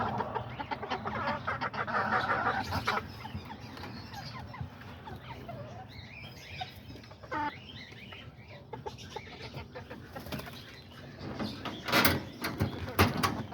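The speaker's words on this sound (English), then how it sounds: "And then I have these chickens in here with them for now." Chickens in a pen shared with rabbits cluck and squawk close by, with a rattle of a door or wire and a person talking intermittently among them.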